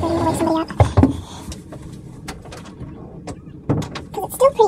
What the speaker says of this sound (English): I need to shut my door completely because I'm really afraid to wake somebody up.